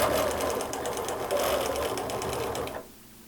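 Sewing machine stitching along a quilting ruler with a darning foot, a loud rapid mechanical chatter running continuously before stopping abruptly near the end.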